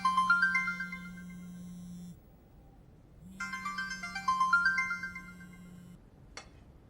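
A telephone ringtone plays a bright electronic melody in two bursts separated by a short pause, loud and clear over a steady low hum, with a final short blip and no talk.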